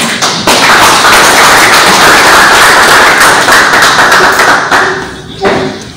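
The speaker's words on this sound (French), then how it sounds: "Si on peut l'applaudir." Audience applause at a Congolese federation of surveyor-topographer engineers event, a loud, dense round of clapping that holds steady for several seconds and then tapers off.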